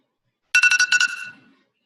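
A phone alarm chirps in a quick burst of about eight bright electronic pulses, close and loud, then fades into silence.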